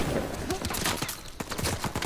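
Bursts of gunfire from an Uncharted 4 firefight, rapid cracking shots in quick uneven succession over a couple of seconds, loud and close, with game sound underneath.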